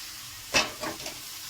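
Khar kun leaf stalks hit a hot pan with turmeric, giving a sudden brief sizzle followed by two fainter hissing bursts, close by and over within about a second.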